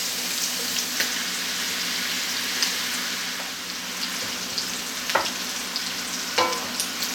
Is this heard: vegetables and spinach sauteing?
yes